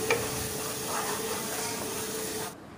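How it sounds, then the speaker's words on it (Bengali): Fried shrimp being stirred into a chili and garlic spice masala in a pan, a steady close hiss and sizzle with faint scraping, fading slightly at the end. "চিংড়ি মাছগুলো দিয়ে ভালোভাবে মশলার সাথে মিশিয়ে নিব দুই এক মিনিটের মতো।"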